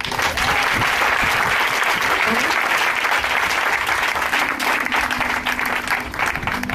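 A church congregation at a Sunday worship service applauds to acclaim the Lord, with steady, dense clapping filling the room and a voice rising over it.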